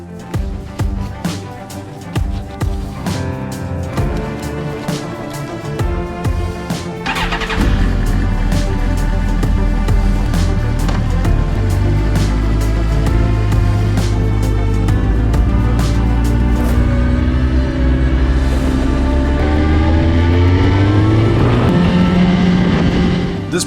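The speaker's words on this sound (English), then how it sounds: "the bike's all put back together, and now it's just time to get it on the road and give it a test ride" A Suzuki GSX-R1000 motorcycle engine runs on a test ride after repairs, idling loud and close, then rising into a steady, heavier drone with shifting revs, no voices over it.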